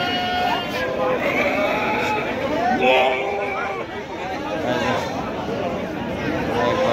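Male goats bleat repeatedly at the Baneshwar livestock market, several wavering calls rising over a constant babble of crowd chatter and people talking nearby.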